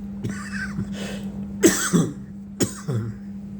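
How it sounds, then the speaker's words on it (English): A person coughs repeatedly in short, harsh bursts, close and fairly loud, over a steady low electrical hum. "I'm sorry about that coughing."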